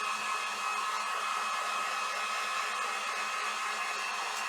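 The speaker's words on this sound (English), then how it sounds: "I'm just going to use my heat gun a little bit on this" A heat gun blows hot air in a continuous, close, steady roaring hiss with a faint tonal whine, unbroken for several seconds with no talk.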